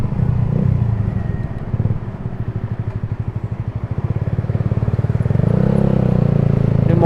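A Suzuki GSX motorcycle fitted with a WRX Lingga aftermarket exhaust idles and revs close by, its deep, rapidly pulsing throb steady, then swelling louder toward the end with no talking.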